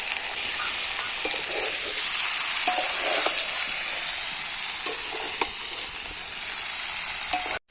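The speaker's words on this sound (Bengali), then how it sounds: "এবার এঁচড়টা আর আলুটা ভেজে নেবো" Young jackfruit and potato pieces fry in a pan of oil, giving a steady, even sizzle throughout with occasional soft clinks of a spatula stirring.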